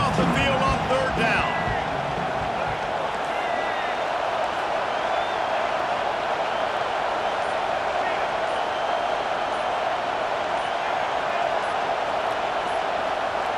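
Home stadium crowd in College Football 25 roaring on a third down, a loud, sustained wash of noise with a burst of sharper sounds at the start and a voice talking over it.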